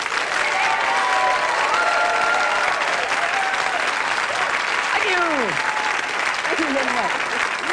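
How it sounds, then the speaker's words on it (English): Studio audience applause at a televised Coronation Street birthday celebration, a steady, dense wash of clapping lasting throughout, with a few voices and gliding tones faintly audible beneath it. "Give them a big round of applause."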